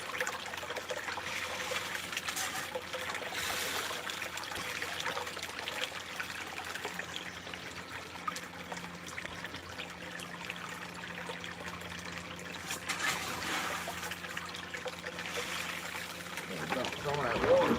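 Water trickles steadily through a small 6-inch Trek gold sluice in a backyard prospecting setup, a continuous close running flow with a low hum beneath it.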